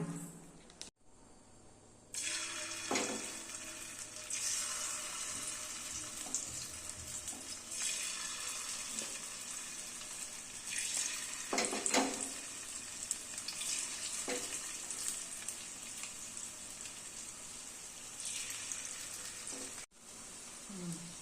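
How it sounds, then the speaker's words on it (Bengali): Chicken pakoras fry in hot oil, a steady hiss and sizzle that starts abruptly after a short quiet moment and runs on with occasional bursts, close and moderately loud. "এই দেখো এইভাবে আমি সব ভেজে নিচ্ছি।"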